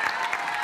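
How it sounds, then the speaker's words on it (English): Studio audience cheering and applauding on a game show, a steady dense wash of crowd noise filling the short moment. "You got a cheer from your mother-in-law."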